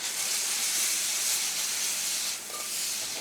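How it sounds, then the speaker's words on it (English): Liquid simmers steadily in a pot while a thick sauce cooks down, giving a continuous soft hiss of steam and bubbling that holds close and even, easing slightly toward the end with no talk. "I don't want it to boil, I just want it to be a nice simmer."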